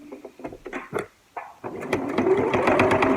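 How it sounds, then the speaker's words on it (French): Sewing machine stitching a fabric zero-waste notebook cover, a few short bursts of stitching with a pause while the needle is planted to turn a corner, then a steady, louder run of rapid stitching, close by. "on plante l'aiguille pour pouvoir tourner"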